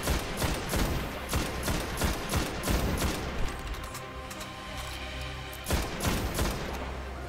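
Rapid gunfire while shooting enemies in Destiny on PS4, dense bursts of loud overlapping shots with a brief lull near the middle before firing resumes.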